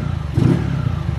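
Honda Titan KS 125 motorcycle engine revving, a loud close idle with a brief throttle blip and rattly mechanical clatter, running alone without talk.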